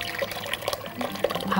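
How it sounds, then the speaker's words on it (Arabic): Cream pours into a pot of milk for a vegetable pasta dish. Soft, close liquid splashing and gurgling lasts a second or two, with no talking. "هحط كريمة قليل مش كتير، حوالي كوباية واحدة بس اهو"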